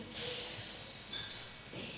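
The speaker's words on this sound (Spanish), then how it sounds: "les voy a pedir a todos que saquen el aire, así" A single breathy, forceful exhalation blows out close to the microphone, followed by a softer second puff of air.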